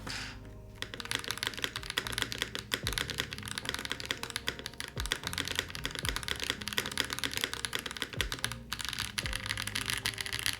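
Rapid, continuous typing on a Razer BlackWidow keyboard set straight on a bare desk with no pad, giving a crisp clatter of quick keystrokes for about ten seconds with no speech.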